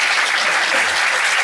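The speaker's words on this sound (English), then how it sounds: "That deserves a round of applause, no?" An audience bursts into dense, steady applause, a close wash of clapping hands filling the whole brief moment.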